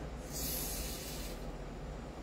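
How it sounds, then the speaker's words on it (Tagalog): A short, quiet hiss of oil sprayed into the valve of a Glock 17 pistol, one burst of about a second over low background noise. "Press mo yung valve. Press para pumasok yung oil. Saka mo spray."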